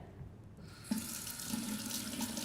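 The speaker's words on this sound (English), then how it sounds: "Wet your hands with water" Water runs steadily from a kitchen tap onto hands, starting abruptly after a brief quiet moment and continuing as a close, even splashing stream with no talk.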